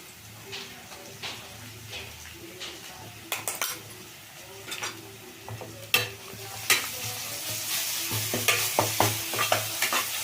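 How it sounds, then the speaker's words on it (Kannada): Onions frying in a pan with ginger garlic paste added for mutton liver fry, a steady sizzle under repeated stirring scrapes and sharp metallic clinks of a spoon against the pan, growing busier toward the end. "ಈರುಳ್ಳಿ ಎಲ್ಲ ಚೆಂದಾಗಿ ಫ್ರೈ ಆಗಿದೆ. ಈಗ ಶುಂಠಿ ಬೆಳ್ಳುಳ್ಳಿ ಪೇಸ್ಟ್ ಹಾಕ್ಕೊಳ್ತೀನಿ."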